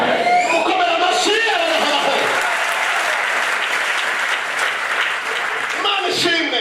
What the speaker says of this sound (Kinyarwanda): Mukomera amashyi